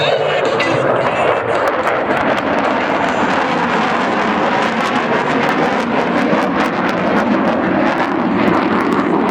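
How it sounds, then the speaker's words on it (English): Loud, steady roar of an F-4 Phantom jet passing at an airshow in Duluth, a continuous broadband rumble filling the whole stretch with no break. "Lieutenant Colonel Greg Blount with the controls of the F-4 Phantom"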